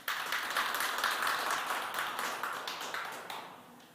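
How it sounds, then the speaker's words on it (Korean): An audience at a social venture forum applauds to welcome the next presenter to the stage; the clapping is dense at first, then gradually thins and fades out. "박수로 대표님 맞이하겠습니다"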